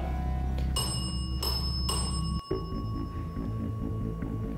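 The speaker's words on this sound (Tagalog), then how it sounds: "Yung dead bell, pwede niyo pong itap." A ghost-hunting dead bell gadget tapped in a reputedly haunted hospital in Cebu, giving three clear ringing dings about half a second apart, followed by a low electronic hum and quiet room noise.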